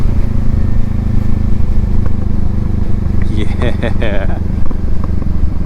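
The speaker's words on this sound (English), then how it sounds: "you hear that popping? I'm jealous. My bike does not pop like that" Kawasaki Eliminator motorcycle idling with a steady engine rumble, while a voice talks over it; scattered exhaust pops and crackles are hard to separate from the talk.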